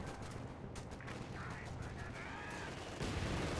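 Rapid bursts of unit gunfire from a Company of Heroes 2 battle crackle continuously over dense, loud combat noise, with a louder swell near the end and a voice briefly under the din.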